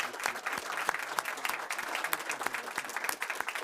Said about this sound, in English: One big round of applause for them.